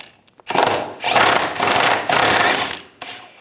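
On a 1998-2010 Volkswagen Beetle, a power tool with a 13mm socket backs a bolt out of a rear brake hose bracket, giving three sustained, buzzing bursts and a brief final one, close up.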